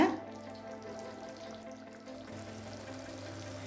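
Soft, steady sizzle of cauliflower pepper gravy cooking on low heat in a pan after mixing, with a brief clatter at the start and no speech.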